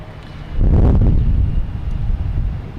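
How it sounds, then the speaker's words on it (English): Gusty wind at Boston Logan Airport buffets the microphone with a loud low roar that swells after half a second and stays strong, rumbling for the rest of the clip with no voices. "It's funny, you can hear the gusts and you look at the planes, you can see the gusts."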